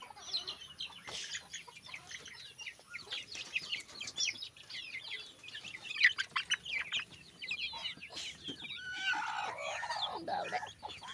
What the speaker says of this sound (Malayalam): നമ്മളൊരു കോഴി അടയായിട്ടുണ്ട്,